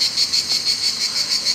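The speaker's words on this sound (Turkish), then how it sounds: "Cırcırlık da orada. Car car car ötüyor." Crickets near a fig tree, chirping loudly in a fast, steady pulsing rhythm of bright, shrill trills, close and unaccompanied.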